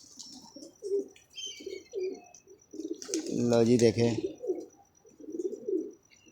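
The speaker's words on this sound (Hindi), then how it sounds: "मज़ेदार कबूतर आए हैं यार" Pigeons coo in a low, rolling burst near the middle, close by, with someone talking before and after and faint chirps in the background.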